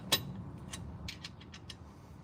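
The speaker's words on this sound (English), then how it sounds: "No, it's just stripping the socket." A worn socket slips and grinds on a bumper bolt of a lifted 1997 Ford F250 4x4, with a sharp metallic clack followed by a quick series of faint ratcheting clicks, quiet and without speech.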